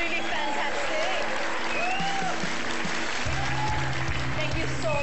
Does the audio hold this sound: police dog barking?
no